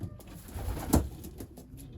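Young pigeons in a loft give a soft, low cooing murmur, with one brief louder coo near the middle over a steady background rustle.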